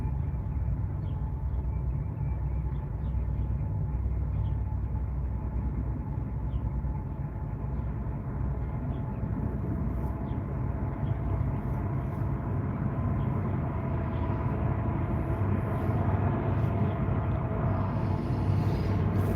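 A train going by in Los Angeles makes a long, steady low rumble with rolling mechanical noise that holds at an even level throughout.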